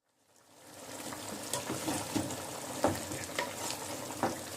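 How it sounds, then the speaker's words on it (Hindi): Mutton fries and sizzles in a pot for pulao while a utensil stirs it, giving a steady close hiss broken by scraping, clattering strokes, with no voices. "इसे मैं 20 मिनट के लिए इसी तरह भूनती रहूँगी।"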